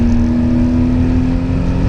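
A budget winter beater car with a raised rev limiter screams steadily toward about 7,000 rpm under hard acceleration in third gear, a loud, sustained engine drone close up with no break or cut.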